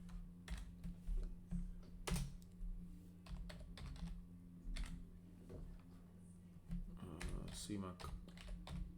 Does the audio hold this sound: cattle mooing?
no